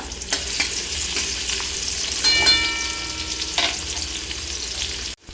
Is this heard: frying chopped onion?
yes